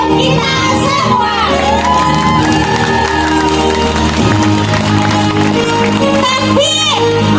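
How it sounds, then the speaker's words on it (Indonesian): A school arts performance crowd cheers, whoops and shouts loudly, with children's voices prominent among scattered applause, a dense and continuous noise with some speech mixed in. "Beri aplaus untuk kita semua."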